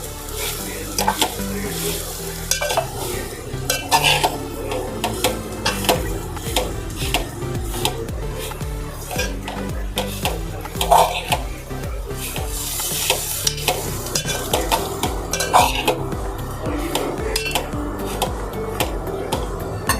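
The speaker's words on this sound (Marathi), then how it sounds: "आपण आधी हे फिरवून घेऊया" Grated coconut stirred in a pan for mango modak, close scraping and rubbing strokes over a soft sizzle, continuous with small clicks of the utensil against the pan.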